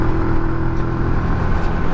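A 125cc motorbike engine held at full throttle in fourth gear while climbing a hill, a loud, close, steady droning roar that stays strained and even throughout, with wind rushing over it.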